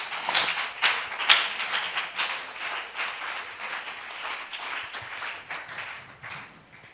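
A church congregation claps together in dense, steady applause for several seconds, moderately loud and close, with no talking over it.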